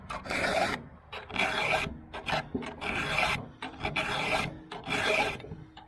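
A hand file rasps against a chainsaw chain in six steady back-and-forth strokes, each a bright gritty scrape separated by short pauses, close and fairly loud with no voices.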